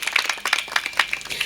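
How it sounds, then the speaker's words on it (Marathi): An audience at a Marathi kirtan breaks into a short burst of loose, scattered hand claps in honour of a singer. "बाबांसाठी एकदा जोरदार टाळ्या वाजवायच्या."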